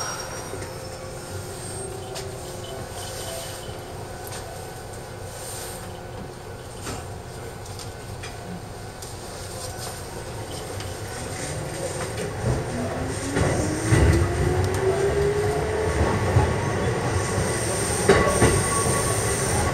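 A Kotoden Nagao Line train rolls and slows, wheels squealing and rising in pitch as it brakes for a stop signal, with a low rumble and faint clatter building toward the end.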